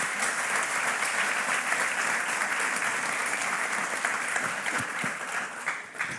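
An audience applauds at a music talk event, a dense, sustained clapping from a large crowd that holds steady and eases slightly toward the end, with no voices over it.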